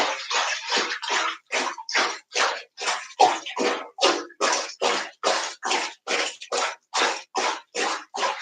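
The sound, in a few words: bathtub water, making bubbles in the tub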